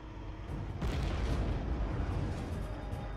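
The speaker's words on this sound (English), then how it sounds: "Okay, missile away." A Bradley fighting vehicle launches a TOW anti-tank missile with a high-explosive shaped-charge warhead, giving a sudden sharp burst followed by a sustained rushing roar that fades gradually, heard from some distance without speech.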